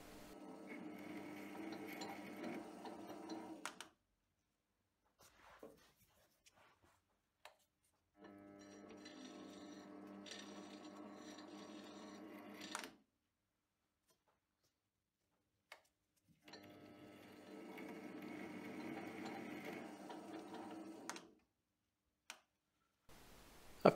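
A metal lathe cutting a 1 mm thread in small repeated passes: three steady stretches of low mechanical whirring and ticking, each stopping cleanly, with quiet gaps between them and no voices.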